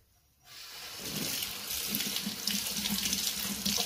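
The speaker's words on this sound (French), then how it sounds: "je rince le petit gant" Makeup puff glove rinsed under a running tap, the water starting abruptly after a quiet moment and then flowing steadily, splashing and gurgling in a sink close by.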